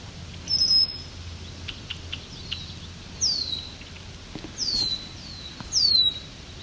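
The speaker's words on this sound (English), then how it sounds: "There's a nice loud swamp sparrow." Swamp sparrow at a lakeside marsh trail sings four loud, clear trilled phrases spaced a couple of seconds apart, close by over a quiet low background hum.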